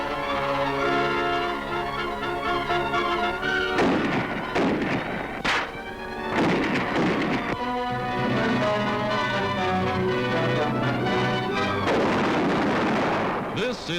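155-millimeter artillery guns firing in 1943 combat footage, several heavy booming reports spread over a long stretch of music and narration, with voices heard throughout.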